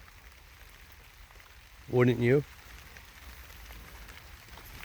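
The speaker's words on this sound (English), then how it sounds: "So, I'm standing out in the rain." Light rain falls outdoors as a soft, steady patter throughout, and a voice speaks briefly partway through.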